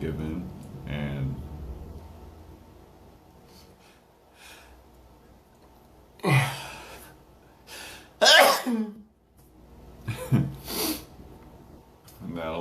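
A person sneezes several times, with sharp, explosive bursts spaced a few seconds apart, mixed with snorting and breathy gasps between quieter stretches.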